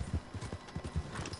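Horse hooves clop in a quick, steady rhythm in Red Dead Redemption 2, close and moderately loud; no neigh stands out.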